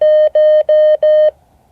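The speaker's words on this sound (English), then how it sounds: "my transceiver set for a 600 hertz side tone" Four steady, pure 600 Hz beeps, evenly spaced like Morse code keying from a transceiver sidetone, clean and alone with no voices.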